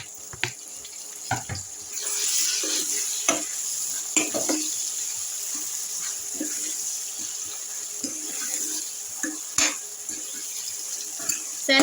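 Chopped tomato tipped into a hot pan of gongura and dried fish curry, with soft frying and scattered scraping stirs and clatters over a steady background hiss.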